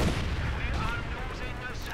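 Gunfire and machine-gun bursts from a battle in a real-time strategy video game, with Grenadiers backed by an MG; dense, loud, continuous crackle of shots fills the whole stretch, with someone talking over it.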